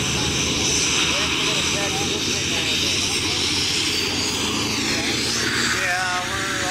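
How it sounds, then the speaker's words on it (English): Beechcraft King Air turboprop at Oshkosh, a sustained engine drone with whining tones shifting in pitch, while people chat over it. "we're all a little wondering where this King Air is going"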